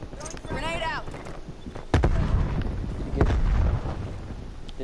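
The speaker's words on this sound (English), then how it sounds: "Grenade out." A grenade explodes in Call of Duty: a sharp boom rings out, then a second blast follows about a second later, each with a rumbling tail, while a voice talks in the background early on.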